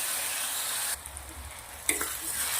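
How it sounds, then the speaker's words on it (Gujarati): Tomatoes and onion sauté in a pan for a South Indian snack, giving a soft continuous sizzle with a couple of light stirring clicks and a brief clatter near the end, no voices. "ટામેટા આપણે મસ્ત ડુંગળી ભેગા શેકી લેવાના છે"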